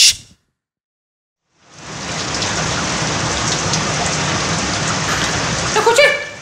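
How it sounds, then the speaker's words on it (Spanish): After a short silence, heavy rain begins and pours steadily, a loud dense hiss with a brief voice at the very end. "¡Está lloviendo!"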